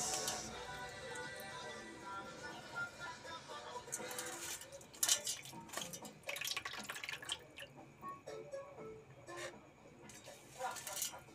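Water drips and splashes faintly during washing, with scattered droplet ticks and soft trickling spread throughout, fairly quiet and close.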